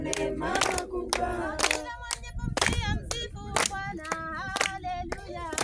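Rhythmic hand clapping during a church worship service, sharp claps beating in time alongside loud sung voices and music.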